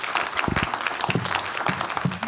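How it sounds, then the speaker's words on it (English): Brief applause from an audience at a crypto roundtable, directed at panelists, claps steady and close, with a voice speaking over part of it. "If we could give another round of applause to them"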